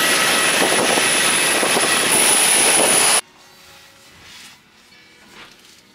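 Airliner jet engine in flight, a loud steady broadband roar for about three seconds that cuts off abruptly, leaving quiet low cabin ambience.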